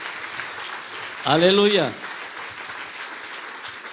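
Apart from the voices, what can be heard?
strong applause in church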